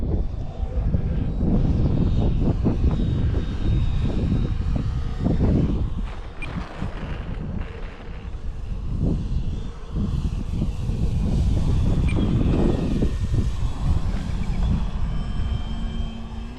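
A small propeller airplane engine at Arnarvöllur airfield drones steadily and loudly throughout, its low rumble rising and easing slightly in waves.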